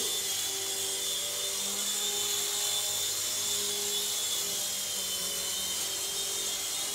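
A Happy Cow Toys Eidolon 2CH infrared RC helicopter flies, giving a continuous high-pitched whine from its small rotor motor at an even level throughout.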